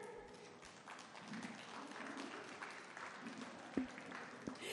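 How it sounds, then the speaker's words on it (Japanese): Audience applause welcoming a boat race winner at a race venue, a fairly faint, even wash of clapping from a crowd with a couple of louder knocks near the end. "どうぞ皆様の大きな拍手でお迎えください"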